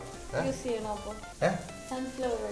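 Mustard seeds splutter in hot oil in a pan, making a crackling sizzle beneath a man's speech.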